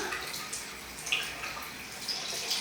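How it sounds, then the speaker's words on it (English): Cold tap water splashes steadily as someone washes their face, a close, continuous wet rush with small drips and splashes breaking through. "I like to wash my face with cold water because it's better for your skin."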